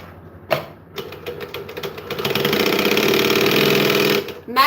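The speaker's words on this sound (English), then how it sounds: "We are going to speed sew because I can." A sewing machine runs fast in a speed-sewing session, a short start near the beginning, then a steady, loud whirring stretch of about two seconds before it stops.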